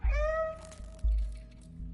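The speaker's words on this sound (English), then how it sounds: "if you meow, see how the camera nods at you?" Cat meows from the video game Stray, two clear drawn-out calls close up, the first a long rising-falling wail and the second shorter, standing alone with no talk.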